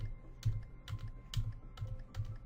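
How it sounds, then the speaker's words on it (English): Computer keyboard arrow keys pressed while playing Duck Life Space, a steady run of clicky taps in small bursts at close range, no voices. "So I need to use the arrow keys here."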